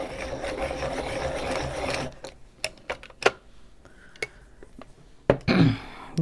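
A colored pencil in a rosy beige shade, used for adult coloring, grinds steadily in a sharpener for about two seconds. Several crisp clicks and taps follow as it is handled, close and fairly quiet.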